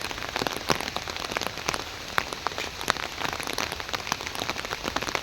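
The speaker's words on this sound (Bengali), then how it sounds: "অনেক সুন্দর একটা পরিবেশ বৃষ্টির মধ্যে।" Rain pours steadily in an even hiss peppered with crisp, close drop impacts on a hard surface, holding a constant level throughout with no talking.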